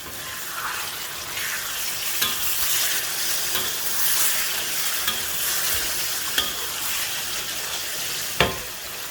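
Masala for mud crab bubbles and sizzles in a pan over raised heat, a dense continuous frying hiss broken by a few sharp clicks of stirring.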